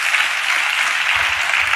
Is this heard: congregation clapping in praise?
yes